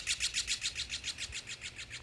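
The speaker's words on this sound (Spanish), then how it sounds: "Andan los pajaritos ahí" Small birds flitting about in fresh snow, giving a steady run of high, rapid chirps repeating about four times a second, fairly close and clear over a faint low background rumble.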